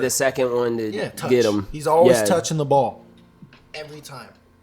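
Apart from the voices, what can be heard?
None of the usual background noises is heard.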